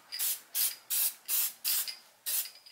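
Spray paint hisses onto a Halloween skeleton's rib cage in six short, even bursts separated by brief pauses. The sound is close and crisp.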